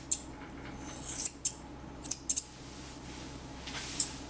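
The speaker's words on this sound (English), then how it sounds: "hold your shears at an angle and trim around that eye, leaving a slight visor" Grooming shears snipping poodle hair around the eye, a series of quick, close, crisp metallic cuts in irregular bursts over quiet background, no talk.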